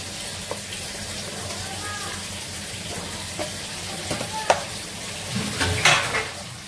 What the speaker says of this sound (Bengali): আলুটা ভেজে নিচ্ছি, একটু আলু দেবো আমি, একটু পেঁয়াজটা ভেজে নিচ্ছি